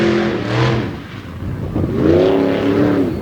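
A sprint car with a 540 cubic inch engine on a Patrick chassis racing on clay at Aiken, South Carolina, its engine revving loudly in two rising and falling surges.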